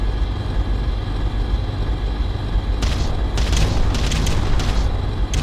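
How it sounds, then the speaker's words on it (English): Artillery barrage explosions in the Ground Control real-time strategy game rumble over a constant low background roar, with a cluster of several booms arriving in the second half. "Pulverizing target. Beginning barrage."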